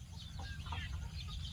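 Backyard free-range domestic chickens cluck softly in a brief, close burst against a low outdoor background hum.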